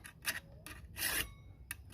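Rasping strokes of a file scraping across a metal lawn mower blade, several short pushes with a longer one in the middle, close and fairly quiet, no talking.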